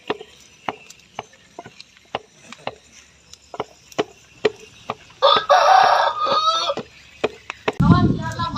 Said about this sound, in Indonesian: Benar, ayam sudah berkokok.